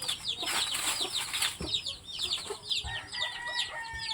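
Chickens cluck and peep alongside newly hatched chicks, a busy mix of high chirps and short clucks repeating nearby at moderate volume, with faint low sounds underneath.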